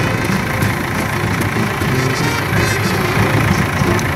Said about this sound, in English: Someone start the tractor.